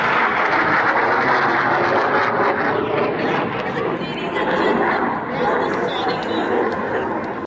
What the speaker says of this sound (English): So that sonic boom was pretty impressive.